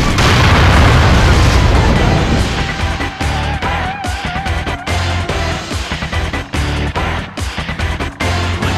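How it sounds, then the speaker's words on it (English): A big cutscene explosion in the Wii fighting game Naruto Shippuden: Clash of Ninja Revolution III, a loud, sustained roaring boom that opens heavily and rumbles on with crackling bursts for several seconds. "It's an explosion!"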